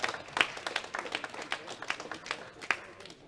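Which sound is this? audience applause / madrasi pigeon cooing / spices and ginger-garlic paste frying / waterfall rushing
audience applause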